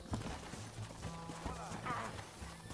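Horse hooves clip-clop in the PS3 game Red Dead Redemption, a steady rhythmic stepping that stays close and fairly even over a low game soundscape.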